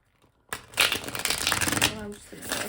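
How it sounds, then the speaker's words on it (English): A deck of tarot cards being shuffled by hand, a quick riffling flutter after a brief quiet start, close and crisp, with a soft voice faintly underneath. "do like one more shuffle here."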